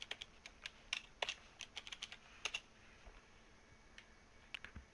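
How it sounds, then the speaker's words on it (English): Quiet, close typing on a computer keyboard, with bursts of rapid key clicks followed by a pause and then a few more scattered taps. "Type in your router IP."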